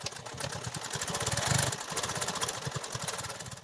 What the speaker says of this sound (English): Now I'm going to stitch this and I'll be right back.